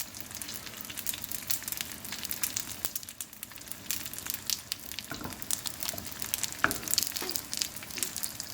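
Fresh or frozen potstickers pan frying, a continuous crackling sizzle with sharp pops and spits scattered throughout, fairly close and without any talking.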